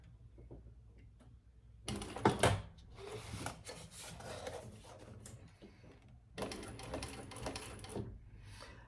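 Sewing machine stitching backwards on a crossbody sling bag: quiet close bursts of rapid mechanical ticking, one short run and a pause, then two longer runs separated by near silence.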